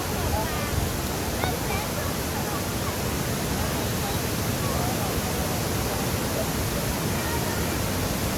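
Milan waterfall in Dang, Gujarat roars as a constant, loud, broadband rush of falling water heard close by, unbroken for the whole stretch.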